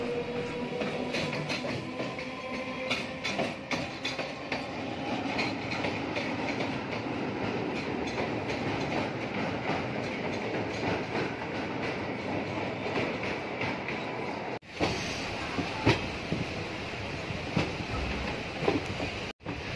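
Kolkata to Digha special train running on rails, a continuous rumbling rattle of carriages with rhythmic clicks from the wheels, heard from on board and steady throughout.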